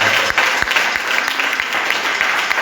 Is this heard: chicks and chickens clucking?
no